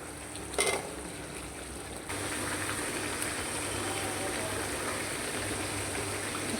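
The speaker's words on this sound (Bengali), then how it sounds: "এখন ডাটাগুলো দিয়ে কষায় নিব। তো চলুন ডাটাগুলো দিয়ে কষায় নিই।" Vegetable stalks sauté in a cooked spice paste in a pan, a steady close hiss and sizzle that rises after a brief clatter near the start and then holds evenly.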